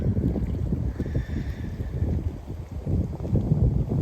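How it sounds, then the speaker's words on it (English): Cold west-to-northwest wind buffets the microphone outdoors at a Georgia state park overlook, a steady loud low rumble with gusty swells throughout and no voices. "I got a cold west to northwest wind blowing in my face right here."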